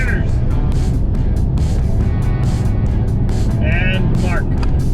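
Inside a GMC Savana 4x4 van with a 2.8L Duramax diesel, the engine drones loudly and steadily under acceleration, with a constant low rumble, rising whines and a gear change partway through.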